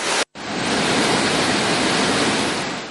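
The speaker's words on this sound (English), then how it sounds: "2 spill gates of the Bankato reservoir have been opened, releasing water to Kalavava via Dambulu Oya" Water roaring out through two opened spill gates of the Bankato reservoir after heavy rains, a loud, steady broadband rush that runs continuously apart from one brief cut near the start.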